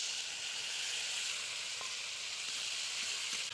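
Cumin and ginger paste sizzles in a frying pan with onion, garlic and chopped tomato, a steady bright hiss that holds evenly throughout, with a few faint clicks and no voices.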